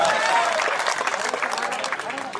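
An audience at a political speech by Navjot Singh Sidhu breaks into loud, dense applause that starts strong and tapers slightly, with voices mixed in among the clapping crowd.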